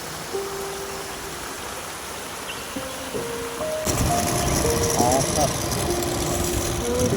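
Small waterfalls stream down a hillside across a mountain road toward Malampuzha dam in Palakkad, making a steady rushing noise that grows louder and fuller halfway through, with a person speaking over it.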